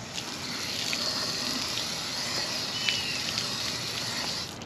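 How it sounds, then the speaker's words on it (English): Water pours and gushes steadily onto an old green Scotch-Brite pad to wet it, a continuous close hiss of running liquid with faint splashes. "I have an old green Scotch-Brite. I'm going to wet it down."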